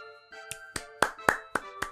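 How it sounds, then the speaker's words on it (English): Six sharp, evenly spaced claps ring out over a faint steady tone, a short burst of applause from a small audience welcoming a special guest onto a stage, with no other voices heard. "Clap."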